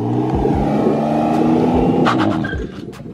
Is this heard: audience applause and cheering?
no